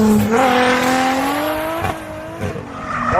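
Drift cars at Castle Combe circuit, heard from across the track, their engines droning loud with rising harmonic pitch and tires squealing continuously through the slides, with no talk.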